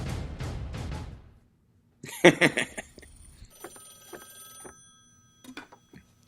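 A telephone rings in a Terminator 2 phone call scene, with a bright metallic bell burst followed by fainter repeating rings and ticking clicks, after a stretch of muffled talk.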